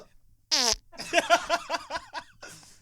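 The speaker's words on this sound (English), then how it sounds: "I just farted into the mic" A loud fart into a microphone, one sharp close burst followed by a man laughing in a string of rhythmic bursts.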